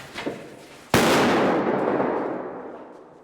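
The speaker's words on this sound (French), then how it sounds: "Attention, grenade, grenade!" A training grenade bursts during a military youth camp in Ukraine: one sharp, loud blast lands abruptly after a short faint sound, then a long rumbling roar and echo trail slowly away.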